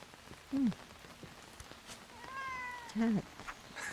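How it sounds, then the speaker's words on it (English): Two short, clear cat meows about two and a half seconds apart in the game Book of Travels, heard over a soft bed of falling rain, with a faint tonal chime between them. "Cat."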